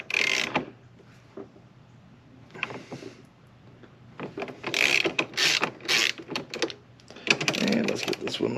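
An 8 mm socket on a ratchet loosens a part on a Predator 3500 inverter generator, giving bursts of quick close clicking and metallic rattling separated by short pauses, with some speech in between.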